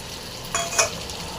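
Raw mango and jaggery are stirred in a pan, giving two soft scraping swishes over a faint steady sizzle, close and fairly quiet, with no talking.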